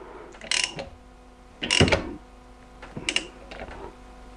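Torque wrench tightening spark plugs during a valve clearance adjustment, three short ratcheting clicks in separate bursts, close and moderately loud.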